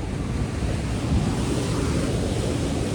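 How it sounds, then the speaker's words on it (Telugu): Rough ocean surf pounds steadily at Maravanthe beach in Udupi, Karnataka. The crashing water is loud and continuous, with heavy wind buffeting the microphone. "అలలు అయితే బాగా ఎక్కువ వస్తున్నాయి."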